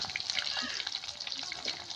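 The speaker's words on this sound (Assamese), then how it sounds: "ইফালে মাছ ফ্ৰাই কৰি আছে বাইৰতে বনাই আছো জুইত" Fish fries over an open fire outdoors, giving a steady, close crackling sizzle of hot oil with small popping bursts throughout.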